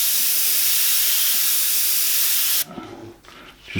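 An airbrush sprays paint in a steady, close hiss that cuts off abruptly partway through, leaving quiet with faint handling noise.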